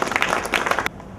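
A short burst of hand clapping, a group applauding together for under a second before stopping abruptly.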